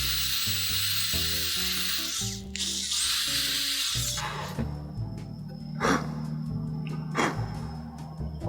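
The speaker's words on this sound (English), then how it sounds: "we're going to drill right in the middle" Electric drill boring into the middle of a cork, a steady whirring motor with grinding, rubbing texture and a couple of louder bursts as the bit bites, close and continuous.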